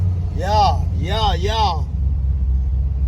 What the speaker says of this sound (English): So we're gonna go for a test drive